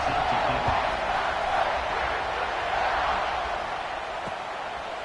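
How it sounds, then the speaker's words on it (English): Steady, full roar of a stadium crowd in a college football video game featuring Ohio State, a dense continuous wash of voices that swells slightly and then eases, with faint thumps beneath. "this crowd now ready to get behind them"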